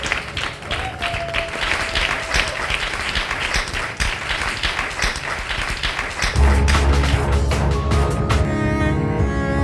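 Audience applause fills a quiz show grand final, steady dense clapping from a crowd in a hall that swells louder in the last few seconds.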